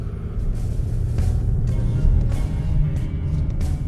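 A 2021 Nissan Rogue SV driving along, giving a steady low road and engine rumble from inside the cabin with even loudness and a few faint higher swishes, no talking.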